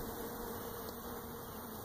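Honeybees in a Warre hive hum steadily and softly, a continuous insect drone with no voices over it.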